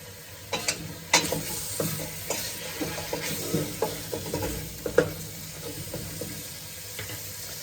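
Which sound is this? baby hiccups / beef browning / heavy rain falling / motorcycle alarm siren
beef browning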